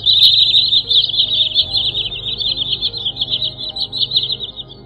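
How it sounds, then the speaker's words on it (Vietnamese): Recorded migratory bird calls played for bird trapping, a continuous rapid high-pitched chirping and trilling song repeating without pause, loud and close over a faint low background hum. "Đây chỉ là một đoạn ngắn trong tiếng chim chuẩn đầy đủ và cập nhật mới nhất để đi bẫy"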